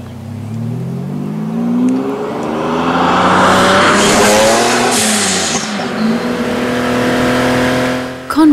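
High-powered sports car racing through the Tyrol hills, its loud rumbling engine revving and shifting through rising pitches as it roars past close by, tires squealing.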